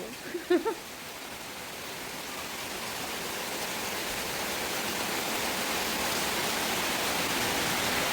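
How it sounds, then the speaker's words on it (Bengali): Rain falls steadily onto a balcony, a dense even hiss that slowly swells louder, after a few brief faint sounds at the start. "কত সুন্দর ঝরঝর ঝরঝর টিপ টিপ টিপ টিপ করে বৃষ্টি পড়ছে"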